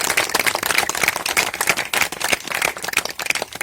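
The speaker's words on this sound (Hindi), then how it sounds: "हम सभी लोग एक जोरदार तालियों से सम्मान करें" A crowd at a club's silver jubilee event claps loudly in honour of its founder, a dense, continuous round of applause with sharp individual claps throughout and no talking.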